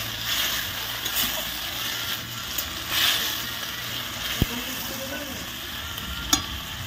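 A ground paste of cumin, ginger, garlic and dried chilli hits hot oil in a pan, giving a loud, steady sizzle and frying hiss with a few sharp clinks and stirring scrapes, with no voices.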